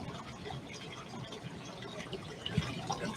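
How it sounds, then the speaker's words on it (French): Water from a lab tap runs steadily into a vessel during online metallurgical tests, a continuous broadband rush with a small splashy knock near the end, no speech over it. "j'allume le robinet également pour avoir une autre source d'eau qui va les propulser"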